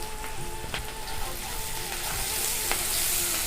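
Onion frying in hot oil in a pan for a Bengali shrimp and kochur loti curry. It gives a steady, close, full sizzle with a few light clicks from stirring, and no talking.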